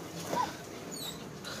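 A scared dog gives a short, faint whimper during a thunderstorm, a single brief whine over a quiet indoor background.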